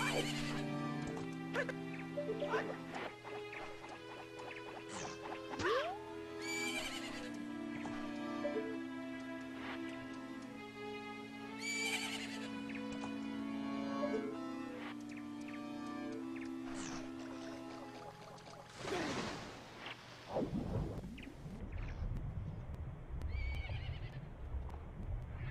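Horse Epona from a Zelda video game neighs and whinnies repeatedly over a steady synthesized game music bed, with loud rustling and a final burst of noise near the end.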